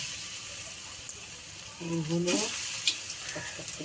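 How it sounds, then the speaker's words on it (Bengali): Drumstick flower fritters fry in hot oil with a soft, steady crackling sizzle, and a brief voice sounds partway through. "এই বড়াগুলো ভাজা হলেই হয়ে যাবে"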